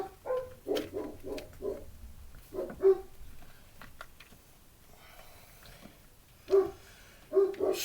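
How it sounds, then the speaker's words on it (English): Dogs bark in short bursts of several sharp, moderately distant yaps, with quiet gaps between the barking clusters in an otherwise calm indoor space. "Sorry for the dogs barking"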